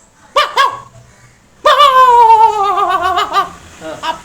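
A human voice imitates a small dog barking: two quick yips, then a longer, whining howl-like bark with a few short yaps after it, loud and close.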